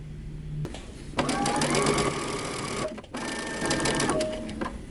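Sewing machine stitching the neckline and armhole of a top made from Simplicity pattern 8136, a close, steady whir that starts after a brief lull, stops momentarily near the middle, then resumes.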